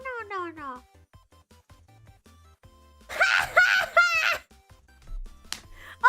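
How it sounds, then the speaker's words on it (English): A cat in a funny talking-cat clip gives a falling, drawn-out meow at the start, then a burst of longer vocal yowls that sound almost like speech, with soft thumps and quiet gaps in between. "the cat's saying no"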